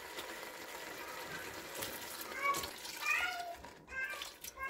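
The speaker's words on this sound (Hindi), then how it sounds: "और अब मैं इसमें पानी डाल दूंगी" Water poured into a pot of mutton for a salted mutton gosht, a soft gushing splash rising and falling in short bursts, with voices talking nearby.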